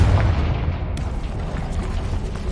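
A Confringo spell explodes in Hogwarts Legacy with a heavy, close boom that quickly fades into a lingering rumble.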